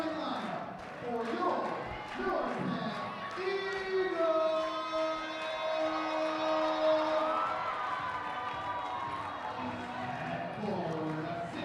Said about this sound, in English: I haven't heard the Norristown crowd this alive in a while, Darius.